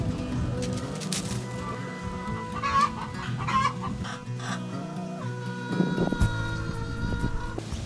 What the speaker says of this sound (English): So we've got some beautiful red hens from the neighbour and we thought we'd chuck them in this cage here.